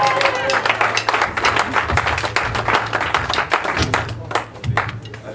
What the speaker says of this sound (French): On acclame fortement le Seigneur.